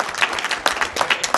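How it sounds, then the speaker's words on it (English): An audience at a convention panel applauds, with dense, steady clapping filling the room, loud and continuous, plus faint cheering mixed into the crowd noise. "Everybody should cheer Andy as he leaves."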